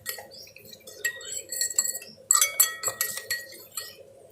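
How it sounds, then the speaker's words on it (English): Oil being stirred into corn flour in a pot for vegetable clear soup: a close run of light, irregular metallic clinks and scrapes of a spoon against the pot, with no voices. "so we need to add oil to this. Let's stir it."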